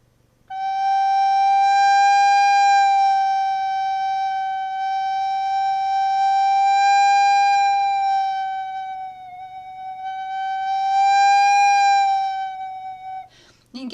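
A single sustained recorder note held alone for several seconds, its pitch wavering slowly and widely in a deliberate vibrato, loud and clear.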